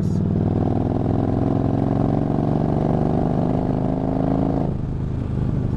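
Yamaha V Star 1300 motorcycle riding in fourth gear, a steady loud engine drone with dense low rumble throughout, its tone dropping slightly near the end as the throttle eases.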